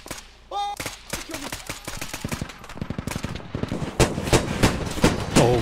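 Bursts of rapid automatic gunfire in the Squad mod shooter, a fast rhythmic train of loud close shots that grows denser and heavier toward the end, with a brief tonal beep near the start.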